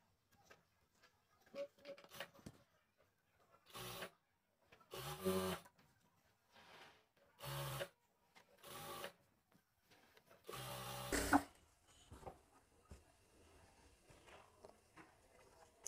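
A sewing machine stitches the side seam of a kameez in about five short, fairly quiet bursts separated by brief pauses, with soft handling noises between runs.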